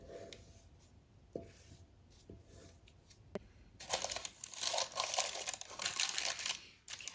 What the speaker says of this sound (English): So to pop your baking paper in